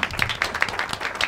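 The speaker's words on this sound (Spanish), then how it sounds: "un aplauso" A studio audience claps for a television show, a short burst of close, rhythmic applause with several sharp hand claps standing out.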